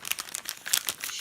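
Shiny paper wrapping on a birthday gift package crinkles and crackles in quick, close bursts over about a second, with no talk.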